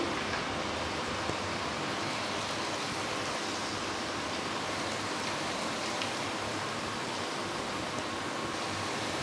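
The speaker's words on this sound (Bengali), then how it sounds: "এখানে তেল গরম হয়ে গেছে, এবারে দিয়ে দেবো, এবারে ছেড়ে দেবো আলুগুলি।" Potato slices frying in hot oil for homemade chips, a continuous dense crackling sizzle like steady rain, even in level and heard alone at moderate volume.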